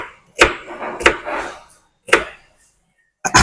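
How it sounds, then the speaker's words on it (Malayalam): A knife chops vegetables into small pieces on a board, with onion, tomato, carrot and beans among them: three sharp separated knocks with brief scraping between, then a fourth starting at the end, close and alone without talk. "അങ്ങനെ ചെറിയ കഷ്ണാക്കിയിട്ട് ഇങ്ങനെ മാറ്റി വെക്കും"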